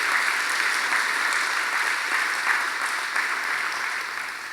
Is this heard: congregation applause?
yes